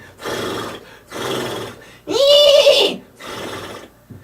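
A person in a studio imitates a horse whinnying, a loud close vocal neigh standing out between several short bursts of breathy, huffing sounds.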